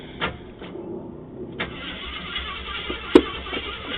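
A Jeep's engine cranks and tries to catch, rough turning bursts at close range with some clanks, no clear talk over it.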